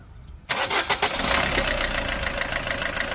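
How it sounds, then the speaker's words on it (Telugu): An S-Cross diesel car engine cranks and catches after a brief quiet moment, then settles into a steady, close idling rumble. "ఇంజిన్ స్టార్ట్ చేసి మీకు సౌండ్ ఎలా ఉంది ఏంటన్నది కూడా చూపిస్తాను"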